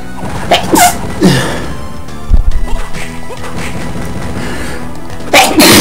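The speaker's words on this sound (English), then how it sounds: "I really should not try to hold back sneezes" A man stifles a sneeze, giving a few sharp muffled bursts with breathy whooshes, close and loud, amid video game sound effects and music from Castlevania: Circle of the Moon.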